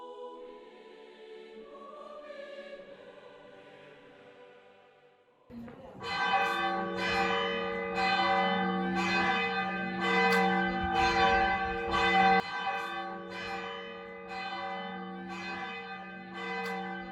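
Church bells in Arezzo ringing out after leaving the church, a loud clanging peal of repeated strikes that bursts in after quieter surroundings and rings on steadily.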